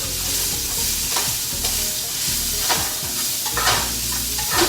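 A spoon stirs a stuffed pepper mixture in a hot skillet, sending a continuous sizzle under repeated scraping strokes against the pan, close and loud, with no talking.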